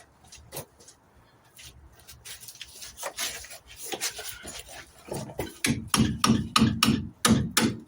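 Loud, sharp hammer blows ring against the rear axle of a 1970 MGB GT, starting sparse and scattered, then settling into a fast, steady run of about a dozen heavy metallic strikes close by.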